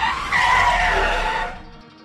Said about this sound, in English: I braked sharply.